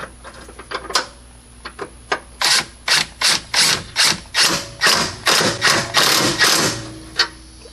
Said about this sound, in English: Then the bottom bolt. We'll tighten this up to spec.